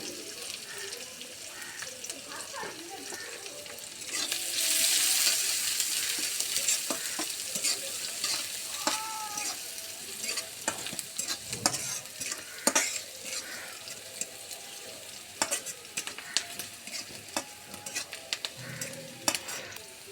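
Sliced garlic, chopped onion, cumin and green chillies fry in hot oil, a steady sizzle with scraping stirs and occasional clatters of the spatula against the pan, close and fairly loud.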